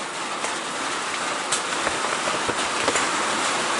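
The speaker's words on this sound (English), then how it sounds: "Can you hear the rain?" Steady rain hisses across the whole stretch, with scattered louder drops tapping nearby surfaces.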